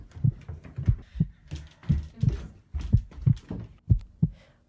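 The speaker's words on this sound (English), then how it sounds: "But why does his heart not stop beating?" Rhythmic beating heart effect, paired thumping beats repeating steadily and close, muffled and low with a soft hum underneath, no talk.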